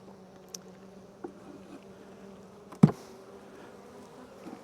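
Honeybees hum in a low, steady drone around an open hive as a brood box is moved, with faint knocks and one sharp close thump of the wooden box.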